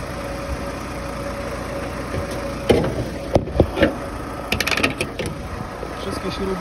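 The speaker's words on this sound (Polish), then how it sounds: "motor chodzi bardzo równo" A Chevrolet Lacetti 1.6 petrol engine idles steadily under an open bonnet, a smooth continuous hum with occasional brief clicks and handling noises over it, no speech.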